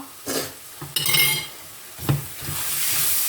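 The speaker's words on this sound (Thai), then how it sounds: "โอเค เราก็ผัดให้เสร็จแล้วเนาะนี่ ได้ที่แล้วเนาะ" Minced pork filling for sago dumplings is stir-fried in a pan, with a few scraping spatula strokes and clinks against the metal over a soft, steady sizzle, all close up.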